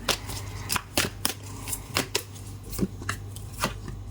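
Oracle cards are shuffled for a tarot-style reading, giving a quick series of soft, crisp riffling slaps at an irregular rhythm, close and quiet, with no talking.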